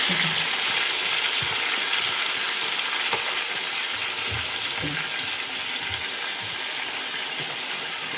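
Chicken for biryani fries in a pan with a steady, close sizzling hiss, broken by a few soft stirring knocks and scrapes, no talk.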